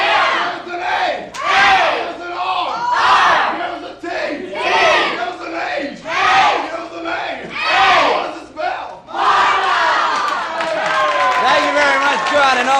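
A studio audience at a Baton Rouge TV show chants a spelled-out cheer, the crowd shouting letters in loud rhythmic bursts with short pauses between them, then breaking into a sustained roar of cheering and clapping.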